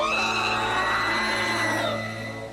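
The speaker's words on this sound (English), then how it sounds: "What is that soul-splitting scream? My ears will start bleeding soon. It's absolutely unbearable." Long, sustained, piercing scream from a monstrous creature in the action RPG Van Helsing, loud and unbroken with harsh tonal layers, slowly fading toward the end with no talk over it.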